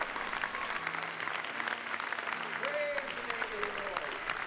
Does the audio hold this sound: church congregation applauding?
yes